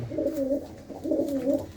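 A pet pigeon belonging to a retired soldier coos twice in low, rolling, throaty phrases, close by over a faint background murmur.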